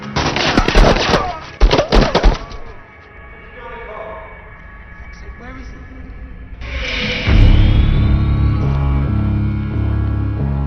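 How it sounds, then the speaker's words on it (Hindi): Rapid bursts of gunfire crack loudly at first, then fade into a rumbling, noisy scene with engine-like drone and voices, in an action movie. "अंदर काफी गोलियां चल रही हैं।"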